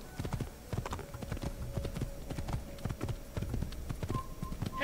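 Horse hooves clip-clop in a steady trotting rhythm in Assassin's Creed, close and continuous for several seconds over faint game ambience, with a brief whinny-like tone near the end.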